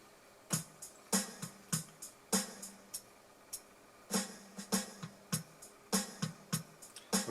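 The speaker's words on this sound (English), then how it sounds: "what you're hearing is just a drum track during the intro" A drum pattern from a Casio WK-7600/CTK-7200 keyboard plays its intro rhythm, with crisp, evenly paced hits and sharp high cymbal-like ticks repeating steadily at moderate volume, without other instruments.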